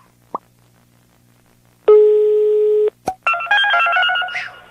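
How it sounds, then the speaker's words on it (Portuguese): Telephone keypad tones from a prank call: a brief single beep, then a sustained dial tone around a second long, a click, and a rapid run of DTMF dialing tones, close and clear with no talk. "Vamos ligar aqui."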